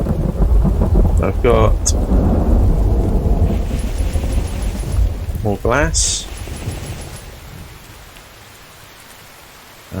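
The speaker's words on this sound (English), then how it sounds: "Not a good place to be in a thunderstorm though, right on the top of here." Thunderstorm with rain lashing the top of a tower in a game, a broadband roar of rain with thunder rumbling through the first half, then easing to a softer hiss; someone talks over it.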